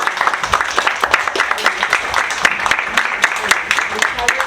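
An audience at an economics forum gives a round of applause, a lively patter of many hands clapping with distinct sharp claps standing out, fairly close and continuous throughout.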